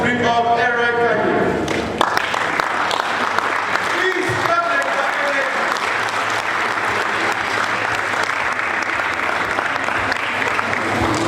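Sustained applause from a conference crowd welcoming a speaker at a DevFest developer event, dense and steady for about ten seconds, with some voices and cheering mixed in near the start.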